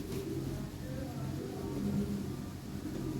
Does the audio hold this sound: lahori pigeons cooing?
yes